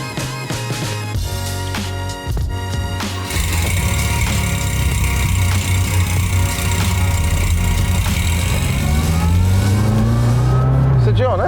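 A small French car's engine hums and revs as it drives in the Australian outback, rising in pitch through the gears, with a voice talking over it early on.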